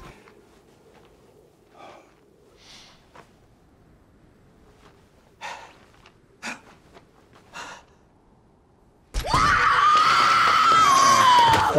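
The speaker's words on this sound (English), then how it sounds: "there's just that witch screaming as she runs towards the camera" A witch in the Suspiria film lets out a sudden, loud, sustained scream that erupts after quiet breathing and faint rustles, shrill and piercing until the end.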